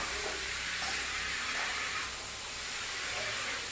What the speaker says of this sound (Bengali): আলুগুলো আর ডাঁটাগুলোকে ভালো করে মশলার সাথে মিশিয়ে নিলাম।